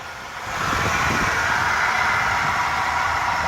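1993 Mercedes 190E 2.6 Sportline with the hood open, engine idling steadily and close after a short lift in level at the start, no talking.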